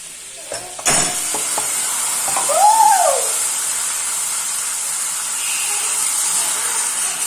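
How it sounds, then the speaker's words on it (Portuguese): Garlic sautés in a pan for beans, giving a steady bright sizzle close by. A couple of sharp clatters come at the start, and a brief squeaky tone passes midway. No one talks. "aqui tá refogando o alho pro feijão"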